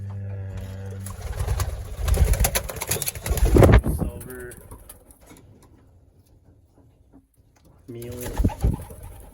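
Racing pigeons coo repeatedly in low, rounded calls at the start and again near the end, close by, with someone talking over the birds and some handling noise in the middle.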